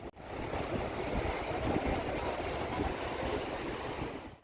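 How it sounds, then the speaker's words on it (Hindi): A glacier meltwater stream near the Amarnath base camp rushes past in a dense, steady roar of churning water that fills the whole stretch without a break. "ये पानी ऊपर बड़े ग्लेशियर से आ रहा है जिस पर से यात्री गुजर रहे हैं।"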